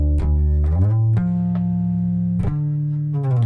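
Bass guitar notes played for a song: a plucked note slides upward to a long, sustained tone, then a fresh pluck rises and settles again, loud, close and without any voice.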